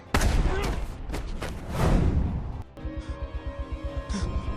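Sniper rifle gunshots in a Punisher action scene, a string of loud, booming blasts and crashes heard up close, followed by a rapid, rhythmic mechanical pulsing that fades toward the end.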